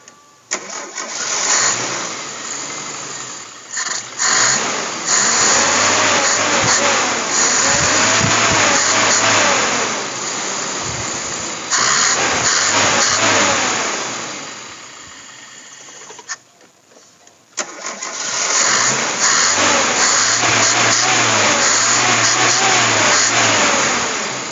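Suzuki Escudo engine fitted with a Kijang 5K carburetor cranks, catches and revs loudly up close, dies out briefly near the middle, then restarts and runs again with uneven revving.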